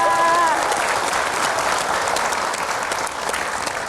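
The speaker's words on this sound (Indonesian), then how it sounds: "berikan tepuk tangan." A live crowd at a Jakarta stage event claps loudly in a dense, sustained round of applause that fades slightly toward the end, following a brief tonal sound at the start.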